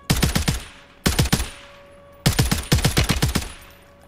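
Gunfire in the Warzone video game: three loud, close bursts of rapid automatic fire with brief gaps between them and no talking.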